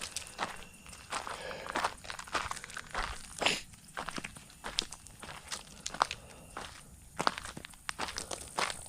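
Footsteps crunch steadily over forest ground near a lake as someone walks along, a continuous run of close, fairly soft steps with no talking.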